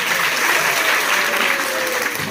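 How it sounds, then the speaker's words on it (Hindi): Loud, steady applause from a school audience at a Gandhi Jayanti function, dense clapping filling the whole stretch with no break. "एक बार जोरदार तालियां।"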